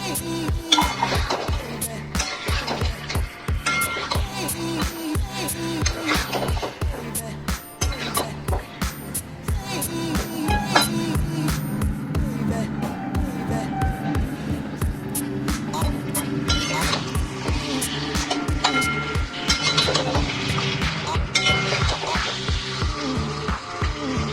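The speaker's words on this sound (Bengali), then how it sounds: "মাছ কটাকে আমি কষিয়ে নেবো ভালো করে" Fish pieces sauté in spice paste in a pan, a dense continuous rattle of rapid metallic scraping and clatter kept up throughout, loud and close.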